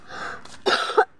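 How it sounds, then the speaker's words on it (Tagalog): Two or three harsh coughs from a person outdoors after getting lost in a forest on the way to a relative's farm, close and loud with a short rough burst and a stronger final one, heard alone. "Inuubo na pa naman ako."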